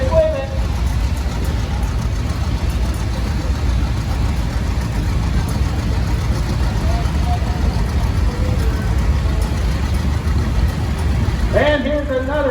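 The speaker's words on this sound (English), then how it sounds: "And here's another Case tractor, the 1976 930, driven by Mr. Wyatt Kyle and crew." A 1976 Case 930 antique tractor rolls past in a county fair parade, its deep engine chugging steadily and loudly throughout, with talking over it.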